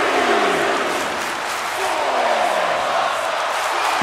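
A large arena crowd at a WWE WrestleMania main event match roars and cheers continuously, a dense loud wash of noise with voices rising and falling throughout.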